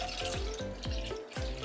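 Water splashes and gurgles as it is poured from a drinking glass into a kitchen sink, a short, close, fairly quiet run of pouring with small bursts and splatters.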